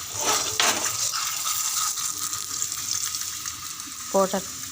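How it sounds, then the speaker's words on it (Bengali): Paratha frying in hot oil on a tawa gives a steady, close sizzle that carries through the whole stretch, with a few brief clatters of utensils near the end. "পরোটাটাকে আমি এপিট ওপিট দোনোভাবে লাল লাল করে ভেজে নিব।"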